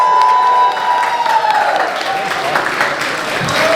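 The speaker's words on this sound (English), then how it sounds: "All right, everybody give Thomas a big round of applause." Loud applause and cheering from a crowd at a steampunk costume contest at a convention, a dense steady clatter of clapping with whoops, lasting several seconds.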